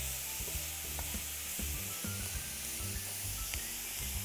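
Onions frying with meat in a hot pan, a steady close sizzle with scattered knocks and scrapes of stirring, and no voices.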